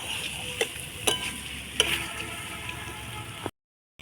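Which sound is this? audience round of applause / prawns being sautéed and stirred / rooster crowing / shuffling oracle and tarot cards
prawns being sautéed and stirred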